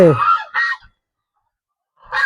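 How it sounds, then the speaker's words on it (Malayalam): Two short harsh goose honks close together, then a pause of over a second before another honk, fairly loud and near. "നമ്മളെ വാത്തകൾ വരുന്നുണ്ട്."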